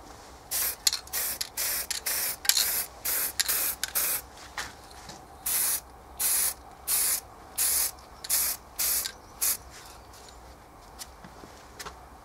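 Rust-Oleum metallic chrome spray paint sprayed from about 30 centimetres away in a rapid series of short, crisp hissing bursts, around a dozen evenly paced puffs close up with quiet gaps between.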